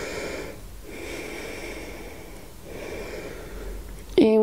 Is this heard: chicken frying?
no